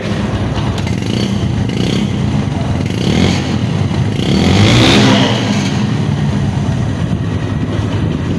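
A 135cc motorcycle engine in very good condition runs steadily and loudly close by, with a low rumbling throb that swells briefly as it revs.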